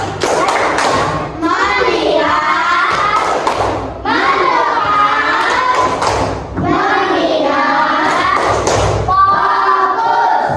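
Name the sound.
classroom children doing the 'tepuk fokus' clapping routine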